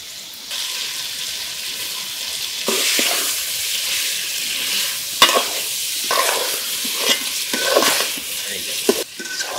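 Chicken cooks in a pan of fried spice paste for a home-style kosha, giving a close, hissing sizzle that jumps louder partway through. Intermittent scraping and clinking from stirring run beneath the sizzle.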